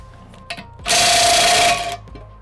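An impact gun cracks loose the bolts holding a bolt-on blade, a single loud, close rattling burst of about a second, preceded by faint clicks.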